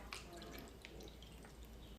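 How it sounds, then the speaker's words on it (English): Juice poured into a Ziploc bag makes a faint, soft trickle and drip with a few light splashy ticks over low background noise. "Pour juice in a Ziploc."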